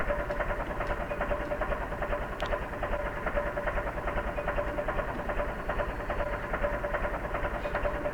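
A Fiat 70-56 tractor engine idles in Farming Simulator 15, a steady mid-pitched drone with a faint rhythmic throb that holds evenly throughout, with no voices.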